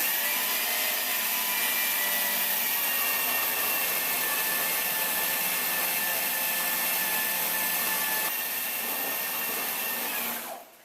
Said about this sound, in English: So just give that a good mix until it's really well combined.